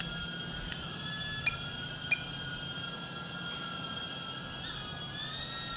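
DJI Avata drone in flight, a steady high-pitched propeller whine with constant loudness, broken by two brief sharp clicks partway through, no voices.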